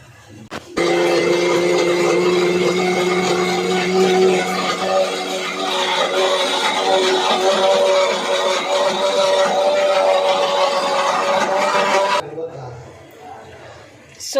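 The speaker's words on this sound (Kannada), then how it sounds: "ಇದನ್ನು ರುಬ್ಕೋಬೇಕು ಇವಾಗ" A kitchen mixer grinder whirs loudly as it grinds moong beans and coconut with a little water. The steady motor hum runs about eleven seconds, then cuts off abruptly.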